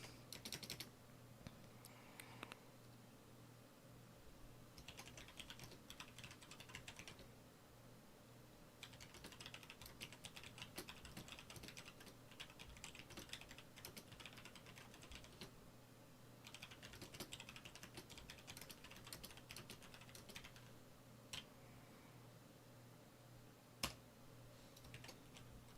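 Computer keyboard typing at a desk, bursts of quick, light key clicks separated by short pauses, faint and close against a steady low hum, with no talking.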